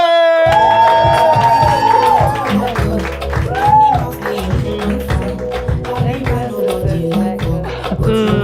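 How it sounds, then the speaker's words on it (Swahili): A studio audience cheering and clapping to welcome a comedy guest onto a talk show, loud sustained crowd noise with rhythmic clapping and whoops, while upbeat music plays underneath. "Put your hands together for the one and only Nyaboke!"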